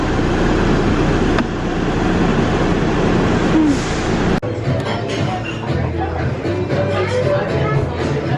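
Small airport shuttle train in Atlanta rumbling loudly and steadily up close, with a sharp shift in the rolling noise partway through and a crowd murmuring underneath.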